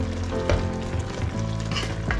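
A sarciado-style salmon dish sizzling in a pan as it is stirred, a close, dense, continuous frying hiss with soft scraping strokes of the spoon.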